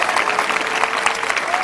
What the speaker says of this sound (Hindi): एक ताली खुदावन की महिमा के लिए बजेगी